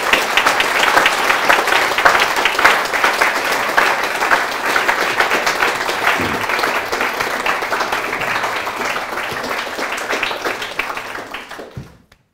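An audience at a design talk applauds the crew in a loud, dense, sustained burst of clapping that carries on steadily for about twelve seconds before cutting off.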